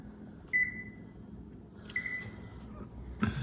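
Oven control panel beeping as it is set to preheat, three short high electronic beeps spaced apart over a quiet room background.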